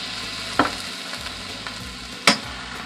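Lettuce stir-fry sizzles steadily in a hot pan while a utensil stirs and scrapes through it, with two sharp clanks against the pan standing out above the constant frying hiss.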